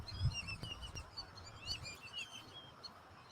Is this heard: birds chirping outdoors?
yes